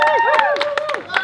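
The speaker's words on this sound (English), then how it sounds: "Big round of applause for Stu for manning the grill." Quick applause and scattered clapping break out at a cookout for the cook manning the grill. Voices whoop and cheer over the claps during a brief burst.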